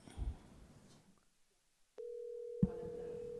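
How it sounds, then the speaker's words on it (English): A telephone tone during a county commissioners meeting comes in abruptly after a short near-silence and holds as one steady, unbroken pitch. A knock sounds partway through, and faint room noise sits underneath. "I can hear the phone ringing right now."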